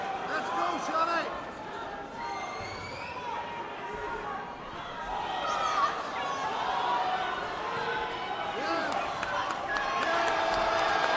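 Boxing crowd roaring and cheering steadily throughout a professional fight, a dense arena wash of voices beneath continuous commentary.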